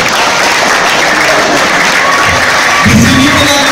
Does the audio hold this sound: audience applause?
yes